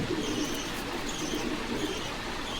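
Pigeons coo continuously at a busy pigeon market, soft overlapping throaty calls close by over a dense bed of crowd noise and rustling.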